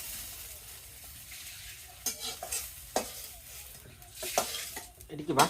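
Fish curry made with roe-laden puri fish frying in a pan, a steady soft sizzle with occasional sharp stirring scrapes and utensil clinks, close by, with no talk.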